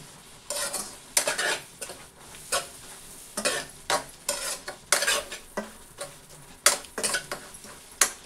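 Egg rice stirred in a hot pan with a metal spoon, repeated clanking scrapes against the pan in an uneven rhythm over a soft sizzle, close and fairly loud.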